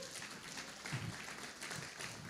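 A church congregation claps and cheers in a soft, distant wash of applause that swells slightly midway, with no clear speech over it.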